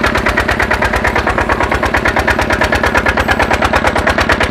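A diesel engine converted to run on LPG gas drives a water pump, giving a loud, steady rapid chugging with evenly spaced firing pulses throughout and no voices.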